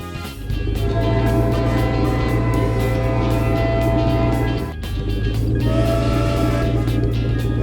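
A glowing train sits in a yard in a Peppa Pig cartoon, a loud, steady engine rumble with a droning hum that dips briefly once near the middle and then resumes, heard alone without speech.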